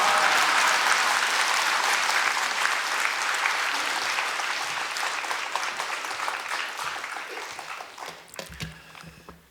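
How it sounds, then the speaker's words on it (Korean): Church congregation at a revival meeting applauding to welcome the pastor, loud sustained clapping that gradually thins and fades out, with a few scattered claps and faint voices near the end. "박수로 우리 목사님 맞이하겠습니다"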